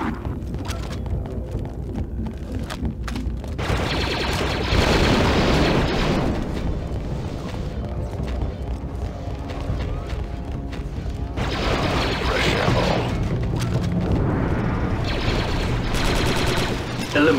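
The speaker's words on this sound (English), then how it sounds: "Watch for missiles!" Missile explosions and gunfire in the Star Wars Republic Commando video game, a dense, loud barrage of booms and rapid shots that swells and recedes in waves.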